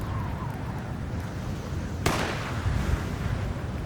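A frag grenade goes off in the Alone in the Dark video game: one sudden sharp blast about halfway through, trailing into a rumbling decay over a steady noisy game background.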